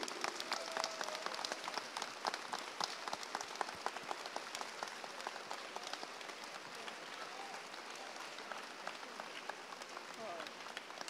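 An audience applauds at a relay-for-life walk closing ceremony for its youngest participant, a two-year-old boy: dense, steady clapping from many hands that holds for the whole stretch without letup.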